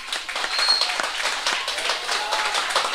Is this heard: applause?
yes